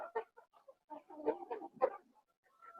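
Chickens in a farm shed give a scattered run of close, fairly quiet clucks and short squawks, with brief pauses between bursts and no other sound.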